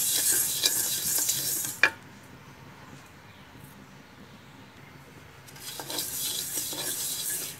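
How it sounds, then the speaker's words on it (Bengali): Whole spices dry-roasting in a pan over a very low flame for homemade Eid masala, a soft hiss and stir with one sharp scrape of utensil on pan early on, quieter in the middle and picking up again near the end. "খুব ধিমা ধিমা জালে এটা ভাজতে হবে"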